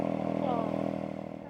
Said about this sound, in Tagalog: Painitin ko lang yung motor.